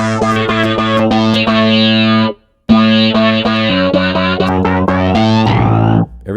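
Distorted Omnisphere 2 synth sound playing chords and plucked notes, loud and gritty with chorus-like shimmer, cutting out briefly midway before resuming and fading at the end.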